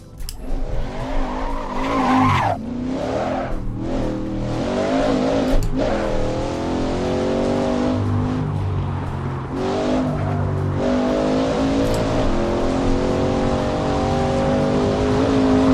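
Race car in a driving simulator game: loud, sustained engine roar with rising and falling revs through gear changes, overlaid with screeching tire squeal during cornering, continuous throughout.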